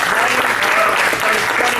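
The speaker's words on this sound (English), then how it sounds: "let me get a round of applause for Brian Cable." A live audience claps for a guest at an evening talk event, loud dense applause close by, sustained and even throughout the short burst.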